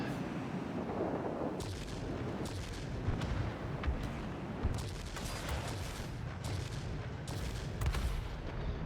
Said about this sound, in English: you see when that cannon hits, it's just brutal